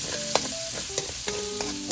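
Garlic frying in a pan for ginisang pechay, a steady hiss of oil with sharp scraping stirs of a spatula every half second or so, close and moderately loud, no talking.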